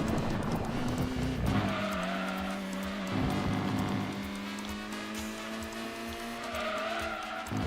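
Race cars, Nissan Skylines and Toyota Supras, in the Gran Turismo 2 video game at Laguna Seca, with engines whining and shifting through gears, rising and falling in pitch, and brief tire squeal, heard close and without voices.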